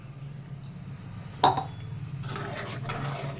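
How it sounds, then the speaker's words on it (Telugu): Water poured into simmering chicken curry in a pan: a single clink, then a soft, steady hissing wash that builds and holds over a low background hum. "నేనైతే వాటర్ వేసేస్తున్నాను"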